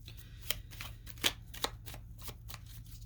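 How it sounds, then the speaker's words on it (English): Tarot deck being shuffled by hand: soft, close riffling and flicking of cards in a loose, uneven series of bursts over a low steady hum. "Let me shuffle a little bit."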